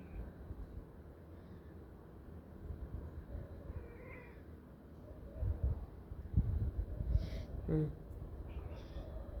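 Cats meowing, a few short, faint mews and a louder cry toward the end, heard against low background noise and some nearby conversation.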